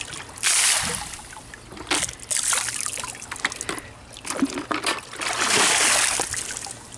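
Green, algae-filled swimming pool water receiving a thrown dose of pool chemical, heard as several broad watery splashes and sloshing bursts spread across the span, close and fairly loud, with no talking.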